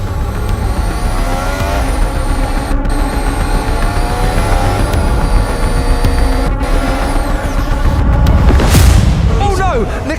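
Nicholas Latifi's Formula One car at Yas Marina in Abu Dhabi roars loudly with other engine whines around it, then a harsh tire screech and impact noise near the end, with a crowd or radio chatter underneath.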